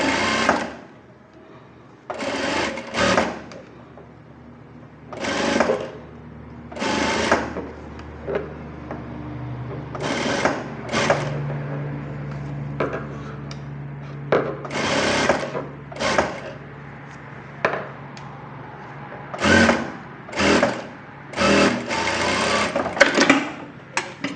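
Sewing machine stitching a buff sleeve in repeated short bursts of rapid mechanical whirring, separated by quieter pauses with faint handling noises, close and clear throughout.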